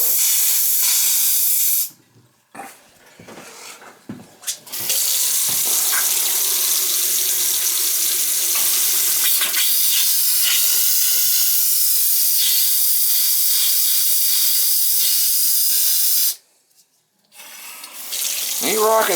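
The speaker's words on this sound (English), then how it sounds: "just pushing all the water out with air from the other house" Compressed air forces water out through a three-season cottage's plumbing in a loud, steady gushing hiss that cuts off abruptly twice, with scattered clanks and a brief voice in the gaps.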